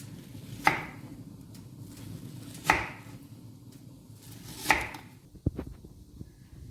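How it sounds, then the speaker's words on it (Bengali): A knife chops sausages into rings on a cutting board in a home kitchen, giving three spaced, crisp thuds about two seconds apart, then a few lighter quick taps near the end, close and alone. "সসেজগুলোকে আমি এবার একটু রিং রিং করে কেটে নিচ্ছি।"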